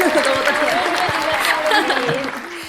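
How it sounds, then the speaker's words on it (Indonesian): Studio audience applause breaks out during an Indonesian tech talk show about internet solutions, a dense burst of clapping heard over talking voices and tapering off slightly toward the end. "Tepuk tangan dong boleh. Tepuk tangan."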